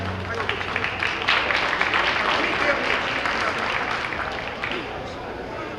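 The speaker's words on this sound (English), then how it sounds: "Give you all a round of applause." An audience at a cancer coalition benefit banquet breaks into applause, a dense wash of clapping with crowd noise and voices mixed in underneath.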